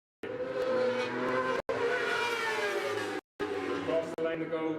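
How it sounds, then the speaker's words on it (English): A Suzuki superbike roars past while crossing the finish line at an Ulster Superbike Championship road race, its loud, high-revving engine sweeping by in bursts broken by short gaps as it shifts gears, with an announcer talking over it. "Michael Clay across the line there on the Suzuki"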